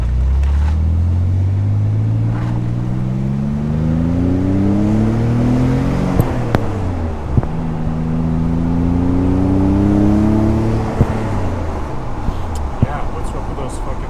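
Barn-find Nissan 300ZX twin turbo accelerating through the gears on a first drive, engine pitch climbing in repeated sweeps with shift dips between, loud and close from inside the cabin, with people talking over it.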